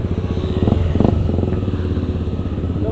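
A supermoto motorcycle idles and revs unevenly at a rest area in Lembang during a Sunday morning group ride, with a steady loud engine throb and a few clattery blips near the start.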